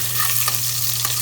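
Garlic, then onion, frying in a pan with loud, close sizzling and crackling, steady throughout with faint stirring.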